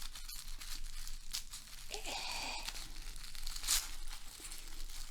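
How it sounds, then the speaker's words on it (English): Paper wrapping on a carefully wrapped package is torn open and crinkled close by, with quiet rips and rustles, one louder tearing stretch in the middle and a sharp crackle toward the end. "There seems to be no real start, so I'm just going to tear it open."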